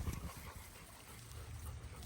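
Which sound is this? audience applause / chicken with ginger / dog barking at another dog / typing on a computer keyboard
dog barking at another dog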